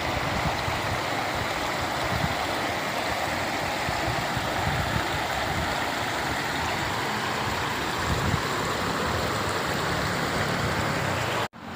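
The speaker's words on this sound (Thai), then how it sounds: "แม่น้ำมาดน้ำก็ไหลแรงไหลเชี่ยวนะครับ" The Mad River in flood, running strong and fast, gives a continuous broadband rush of churning water, loud and steady for the whole stretch and then cut off abruptly.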